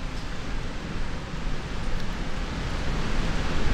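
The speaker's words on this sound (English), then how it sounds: "A noise from the waterfalls" Steady rushing waterfall roar in a desert dune area of a modded Minecraft world, broadband and continuous, slowly swelling louder with no voices.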